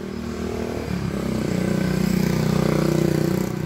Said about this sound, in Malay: Tengok belah sini ada motor.